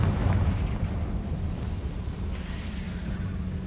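Confringo blasting spell in the video game Hogwarts Legacy, a deep rumbling explosion with a heavy low boom that rolls on steadily and fades slowly.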